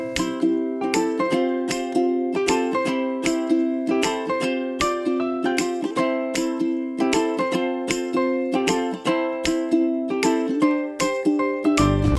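Stock music track in a snappy cell phone commercial style, upbeat and bright with crisp plucked rhythmic chords on a steady fast pulse, loud and continuous with no voices.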